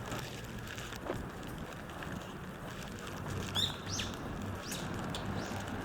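A few faint, brief bird chirps rise over a constant outdoor background noise, sounding distant and scattered.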